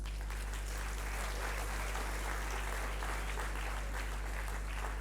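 Audience at a youth conclave giving a dense, steady round of applause for radio guests, many hands clapping continuously over a low hum.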